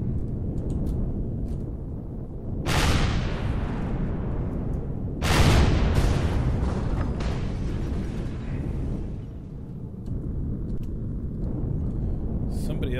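Gunfire and heavy impacts in Empyrion, two loud blasts a few seconds apart over a constant low rumble of engines and ambience.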